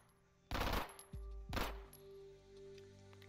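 Two short, loud bursts of fully automatic Glock 18 pistol fire in a video game, each a dense rapid rattle followed by deep booming echoes and a lingering low rumble, with no talking.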